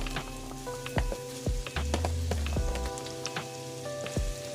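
Onions dropped into a hot pan for pork sisig give a crackling, spattering sizzle with scattered sharp pops and clatters, moderately quiet, with no talk.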